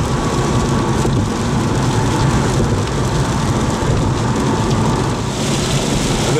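Steady, loud rain pours down on a gray, stormy day by a river, a dense continuous patter on surfaces with no voices.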